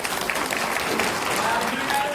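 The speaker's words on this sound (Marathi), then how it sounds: "भजने सुंदर आहे म्हणून टाळी वाजवून स्वागत करा." Audience applause welcoming a bhajan performance: steady, dense clapping that fills the whole short stretch at a constant, fairly close level with no pauses.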